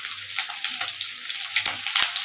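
Chicken skin fat renders and fries in a kadai with no added oil, giving a close, continuous crackling sizzle with a few sharp pops over about two seconds.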